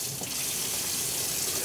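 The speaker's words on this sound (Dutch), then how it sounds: "Water in het keteltje." Tap water runs into a small kettle for making coffee in a home kitchen, a steady loud hissing gush that continues without a break.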